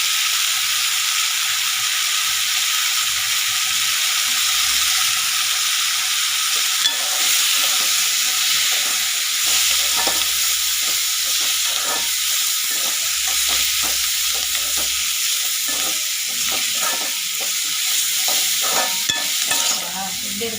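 Red chili powder sizzling as it is stirred into hot oil in a pan for spicy chutney, a steady, close frying hiss with stirring scrapes running throughout, no voices.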